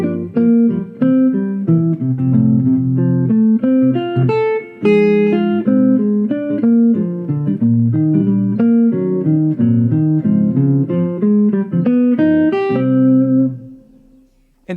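A jazz instrument picks out chord tones over changing harmonies, moving between chords with smooth voice leading in a steady run of clear, sustained notes, loud and alone for most of the passage before it fades near the end.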